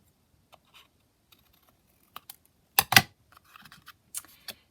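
Scissors cut across folded fabric while pockets are being made, giving a few crisp snips close by. The loudest cluster falls near the middle, with a couple of lighter clicks after it, in an otherwise quiet room with no speech.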